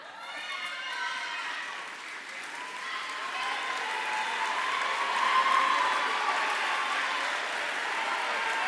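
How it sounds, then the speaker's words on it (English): A crowd applauds steadily for several seconds at a college student-athlete award ceremony, the clapping swelling slightly and holding at a moderate, distant level. "a well-deserved round of applause"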